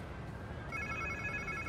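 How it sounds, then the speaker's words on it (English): A phone rings inside a Spider-Man 2 PS5 game scene, a steady electronic trill that starts partway through and repeats evenly over a low ambient rumble, fairly faint and with no talk. "Sounds like somebody's phone."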